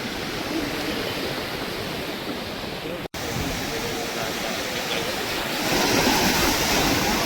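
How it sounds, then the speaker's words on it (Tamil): Strong sea waves crash steadily onto the shore at a fishing spot, producing a loud continuous roar of surf that swells slightly toward the end. "கடல் அலை வந்து அவ்வளோ அதிகமாக இருக்குது"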